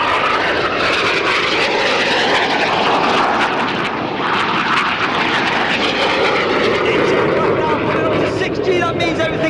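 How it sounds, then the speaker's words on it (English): Red Arrows jets pass over an airshow crowd, a loud sustained engine roar holding steady throughout with a continuous broadband rush and crowd babble beneath. "each aircraft performing a barrel roll before crossing once again at only 30 metres apart"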